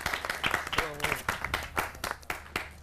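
Audience applause from a studio crowd during an Arabic TV talk show hosting a magician: dense clapping throughout, fairly close, with a voice briefly talking partway through.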